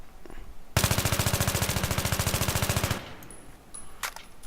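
An AEK-971 automatic rifle with heavy barrel and foregrip fires in Battlefield 3, one loud sustained burst of rapid, evenly spaced shots lasting about two seconds, followed by faint mechanical clicks and metallic tones.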